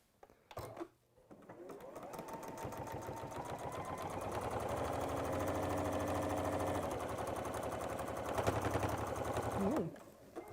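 A sewing machine runs continuously for several seconds while stitching a fabric pouch, a fast even mechanical whir with rapid needle ticking, close and fairly loud, starting and stopping cleanly.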